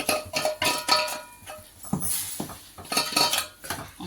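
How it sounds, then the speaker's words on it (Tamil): A utensil scrapes and clinks against a metal pot in short, irregular bursts, close by, as flour is stirred into hot water into a thick dough. "மாவை போட்டு நல்லா கிளறி விட்டுக்கலாம்"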